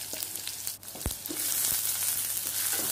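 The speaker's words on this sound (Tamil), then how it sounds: "நறுக்கிட்டு எண்ணெயில் போட்டு வதக்குங்க." Finely chopped onions sauté in hot oil for a South Indian potato podi, giving a steady close sizzle broken by a sharp knock of a spoon against the pan.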